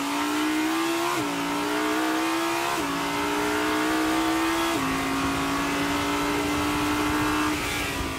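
A naturally aspirated V10 sports car engine revving toward 8700 rpm, loud and close, its pitch climbing steadily through several fast gear changes, each marked by a brief dip before rising again.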